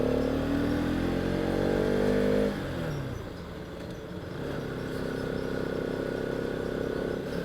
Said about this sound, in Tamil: வண்டி அந்த சவுண்டு தான் வந்துக்கிட்டே இருக்குது